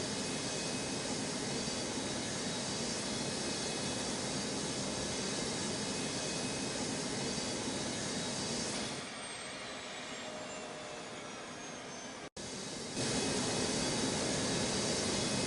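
A jet airliner roars in a steady, distant rumbling wash as it comes in to land at Newark airport, the noise holding level before dropping away briefly and then returning.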